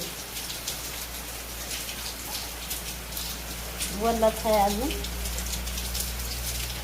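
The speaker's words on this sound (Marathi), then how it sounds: "पाऊस चालू झालाय" Steady rain patters and hisses on surfaces, with a brief spoken phrase partway through.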